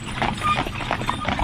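Horses of a five-in-hand team walk with hooves clopping in an uneven, overlapping rhythm, several hoofbeats close by over a low rumble of movement.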